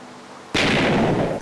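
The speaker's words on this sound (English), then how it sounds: "It makes a massive explosion." A TNT explosion in the video game Minecraft: a single loud, sudden broadband blast that bursts in after a moment of quiet and rolls on with a rumbling, crackling tail of about a second.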